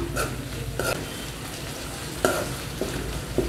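Fried vanjaram dry fish being broken up in hot oil in a pan, with a steady close sizzle and several sharp scraping clacks of a utensil against the pan.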